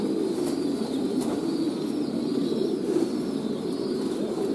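Soft, low cooing from a group of pigeons, including young birds, at a pigeon farm fills the space continuously, a steady murmuring chorus with faint flutters and chirps, no talking.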